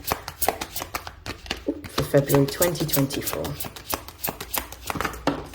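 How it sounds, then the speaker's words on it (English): Oracle cards from a Love Compass deck are shuffled close up in quick riffling, snapping bursts with soft papery slides between them, while someone talks over part of the shuffling. "I'm going to begin shuffling."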